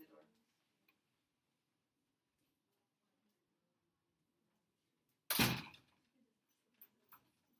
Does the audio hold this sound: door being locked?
yes